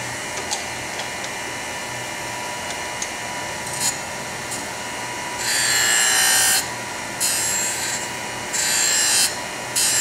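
A graphite block being ground on a grinding machine without a frequency drive in a tool workshop, heard as a steady broadband grinding hiss with louder bursts of rasping contact, close and alone.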